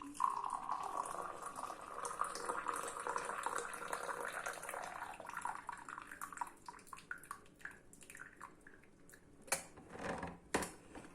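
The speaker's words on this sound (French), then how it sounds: "on rajoute de l'eau chaude pour nettoyer les graines" Hot water is poured over Moroccan mint tea leaves, a soft continuous trickling pour that fades into scattered drips and light clinks of glass or metal, fairly quiet and close.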